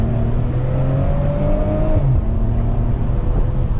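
Maserati Ghibli S engine pulling hard on a driving run, a loud, steady close-up drone with rising pitch that briefly dips around a shift before continuing to build.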